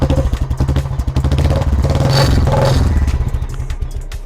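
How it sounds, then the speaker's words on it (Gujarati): A 2018 Royal Enfield Classic 350 idles close by with a loud, steady single-cylinder thump and some mechanical clatter throughout, with no voices over it. "2018 મોડલની ક્લાસિક 350 એકદમ સાયલેન્ટ એન્જિનના સાથે ખાલી એન્જિનનો અવાજ સાંભળો"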